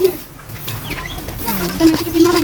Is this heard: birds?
yes